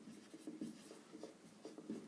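Handwriting of a math proof for a Class 10 Thales theorem exercise: faint, soft scratching pen or chalk strokes in short irregular bursts, close and quiet.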